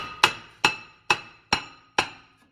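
Five sharp metallic hammer blows, evenly spaced and ringing briefly, struck close by on the front brakes of a 2014-2018 Mazda 3, with no talking.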